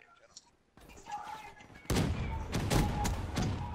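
Booming explosive blasts from a War Machine grenade launcher in Black Ops 3 gameplay, heavy and repeated over a steady rumble of game noise in the second half, with a player's voice talking near the start.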